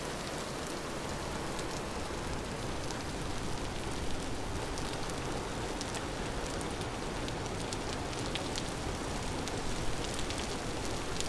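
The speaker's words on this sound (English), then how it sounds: "It's still raining this way." Steady rain pours in the video game Vintage Story, a dense, even hiss of drops on surfaces holding at constant loudness throughout, with no voices.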